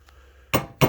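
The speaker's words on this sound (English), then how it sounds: "If you got a hammer, like a soft head hammer, you could use that" A soft head hammer taps on a dirt bike valve during valve installation: two short, sharp metallic knocks about a quarter second apart, close and distinct.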